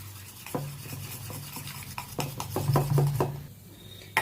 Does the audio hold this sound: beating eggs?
yes